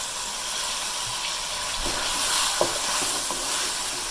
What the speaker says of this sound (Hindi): और इसको अब फ्राई करेंगे थोड़ी देर।